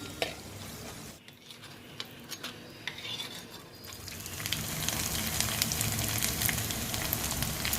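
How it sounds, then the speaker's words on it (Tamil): Dried turkey berries (sundakkai vathal) crackle and sizzle in hot oil for a Tamil vatha kulambu, with steady frying hiss growing louder and occasional stirring scrapes and clinks of a utensil in the pan, no talking. "அப்போ தான் வத்தல் நல்லா பொரியும்"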